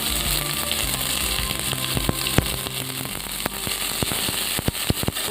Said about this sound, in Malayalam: ഇനി നമുക്ക് കുറച്ച് ഉള്ളി ഇട്ട് കൊടുക്കാം.